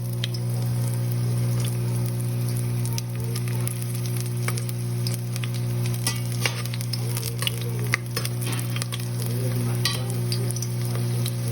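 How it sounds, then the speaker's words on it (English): Garlic fries in a pot for Costa Rican chifrijo, a continuous sizzle with a steady hum beneath it and scattered crackles and spatters from start to finish. "the garlic will start to kind of fry it a little"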